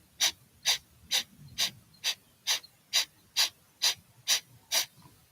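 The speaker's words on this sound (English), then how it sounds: "Kapalbhati, skull shining. It's done with sharp exhalations," Kapalbhati yoga breathing, eleven sharp, forceful nasal exhalations driven by the diaphragm, evenly spaced about every half second, close and clear with no talking.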